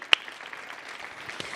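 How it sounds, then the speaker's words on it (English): An audience at a Millennium Stage concert applauds its performers, a soft, distant patter with one sharper clap near the start, brief and quiet. "give them another round of applause"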